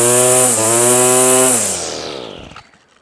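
A petrol line trimmer with a cheap replacement carburetor runs at high revs with a loud, buzzing two-stroke whine, briefly dips, then winds down and cuts off near the end, close and alone.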